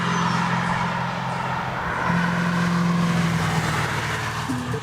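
Bricklin SV-1 engine while driving, a steady low drone with a droning tone that rises slightly and holds, heard from inside or close to the car with road roar and no talking.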